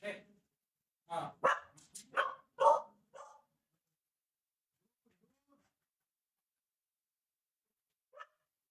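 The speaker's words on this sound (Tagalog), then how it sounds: "nagtahol-tahol na nga ang ating alaga" A pet dog barks in a quick run of sharp, close barks lasting a couple of seconds, then goes quiet, with one faint bark much later.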